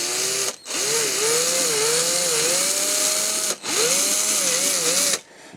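A small power drill bores a hole into a Hot Wheels model of a 1970 Ford Escort RS1600 Lotus Cosworth coupe, whining steadily and close with shifting pitch as the load varies, cut by two brief stops.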